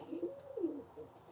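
Soft, low Birmingham Roller pigeon cooing, a few gentle rolling coos close by, with no other sounds around them.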